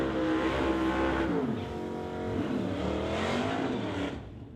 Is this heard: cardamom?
no